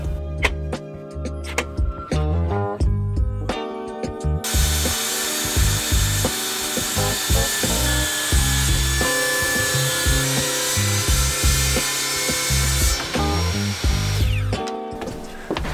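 A maple wood board is trimmed with a cheap saw, giving close, rhythmic rasping strokes with a harsh buzzing tone, broken by brief stops and knocks.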